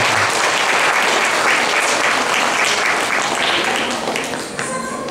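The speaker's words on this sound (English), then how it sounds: "I want to give them the big round of applause for all the performers." An audience at a Dasara-Deepavali celebration applauds child performers with dense, sustained clapping that fades slightly near the end.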